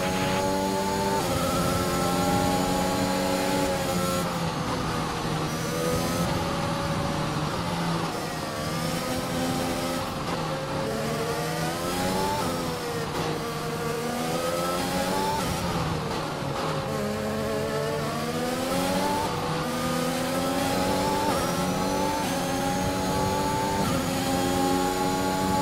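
F1 cars in the F1 2021 racing game roar at high revs, the engine pitch climbing and dropping repeatedly through gear shifts during an overtake, loud and continuous with no voices.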